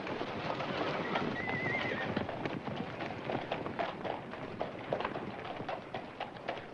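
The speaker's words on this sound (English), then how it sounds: "Good workhorse." A horse whinnies once near the start over a busy, clattering background of hooves and movement at a horse auction, moderately loud and close.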